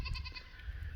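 Newly acquired sheep on a homestead bleat in one short, close, wavering call, loud and clear with no talking over it.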